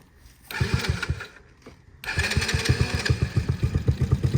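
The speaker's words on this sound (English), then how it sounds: "It's idling a little bit low" A small quad engine idles nearby with a rapid, steady putter, idling slightly low, drops off briefly, then chugs back up to a slightly stronger, even rhythm.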